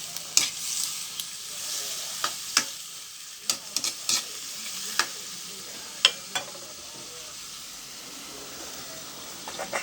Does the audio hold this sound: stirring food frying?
yes